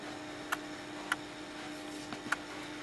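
A K455 combustion analyzer's small printer running off a ticket: faint sharp ticks spaced irregularly over a low steady hum, quiet and close.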